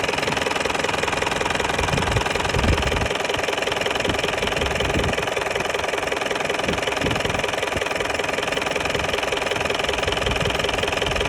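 A vehicle engine idles steadily before any carbon cleaner is injected, a continuous close running drone with a faint knocking, rhythmic texture throughout and no voices.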